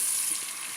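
Fish curry fries in a pot over a raised flame, giving a steady, close, continuous sizzle with no voices.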